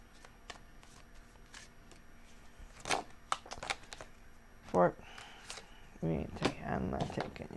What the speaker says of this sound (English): Let's do 2 shuffles.